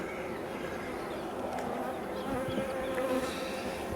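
Honeybees buzz around open hives during an inspection after a hard winter, a soft continuous hum of many insects close by, with faint scattered higher buzzes passing.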